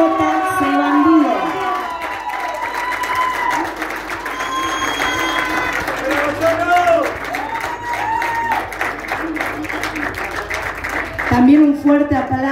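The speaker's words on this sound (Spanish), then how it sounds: "el primer puesto con un fuerte aplauso" Crowd at an endurance horse-riding awards ceremony for the Copa Capitán Sarmiento claps and cheers for first-place rider Gonzalo Heredia on JC Bandido, a steady wash of applause with scattered shouts and talk mixed in throughout.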